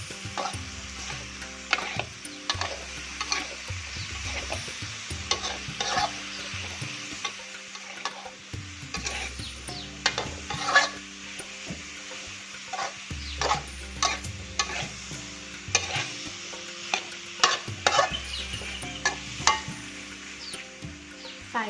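Cucumber and onion being stir-fried in a pan for sweet-and-sour cucumber, with steady sizzling broken by repeated scraping and clinking stir strokes, close and loud, and no talking.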